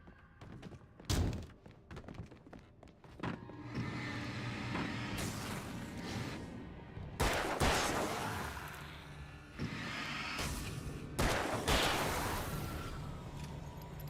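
Flashbang grenades going off in a video game: several sharp, loud bangs, each followed by a long hissing, ringing wash of noise that fills the mix, with dense in-game rumble throughout.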